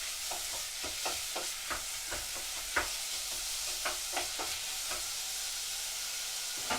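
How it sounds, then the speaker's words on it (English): A spoon scrapes and knocks around a pan of gnocchi on the stove, irregular stirring taps over a soft steady sizzle, close and fairly quiet. "Give it a bit of a stir"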